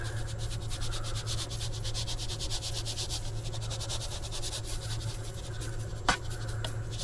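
Coffee grounds being scattered into a 40-gallon worm bin make a close, steady rhythmic scratching and rustling, with one sharper knock near the end.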